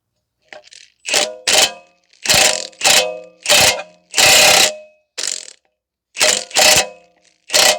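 A ratchet runs a nut onto the steering knuckle of a 2010 Toyota Corolla 1.8, close and loud, in about ten sharp bursts of rapid clicking separated by short pauses.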